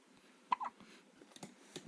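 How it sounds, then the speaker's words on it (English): A baby hiccups in a quiet room, giving one sharp, distinct hiccup followed by a few softer, small catches and breathy sounds, all close and faint. "Those hiccups are taking over her whole body."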